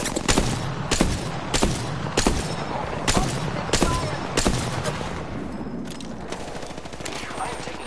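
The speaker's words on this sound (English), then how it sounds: "Oh, we're getting shot at." Rapid bursts of gunfire in the battle royale shooter Apex Legends, a string of sharp, loud volleys repeating about once a second, with scattered shots trailing off toward the end.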